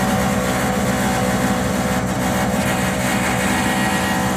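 A furnace exhaust fan runs as a steady, continuous broadband hum with a low rumble, constant in level and uninterrupted, with no voices.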